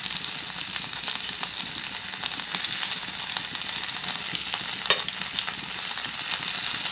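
Stuffed squid (koonthal) fries in a pan with a steady, close crackling sizzle and scattered pops, plus an occasional louder spatter, with no talking.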